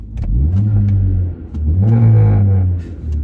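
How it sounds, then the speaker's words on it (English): A Mercedes-AMG A45 engine revs twice, rising and falling, with a breathy turbo whoosh layered over the second rev, loud and close. "you can hear a lot more of the turbo whooshing"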